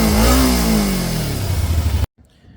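A Kawasaki motorcycle engine with dual intake revs loudly up close, rising in pitch and then settling into a rough rumble before cutting off abruptly.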